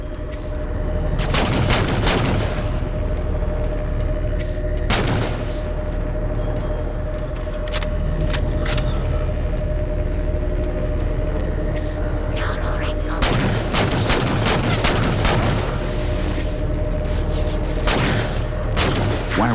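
Halo 4 campaign combat with scattered gunshots and booms bursting over a steady mechanical drone, dense volleys around the middle and end, no talk.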